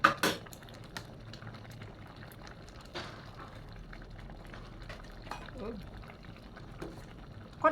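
Thai shrimp rice soup boils in a pot outdoors with continuous bubbling and simmering, occasional clinks of a utensil, and faint voices in the background.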